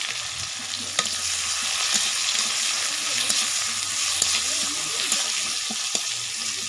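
Chopped onion hits hot mustard oil with dried red chilli and black cumin while a tel koi dish is being made, giving a loud, steady, close sizzle broken by a few faint clicks of stirring.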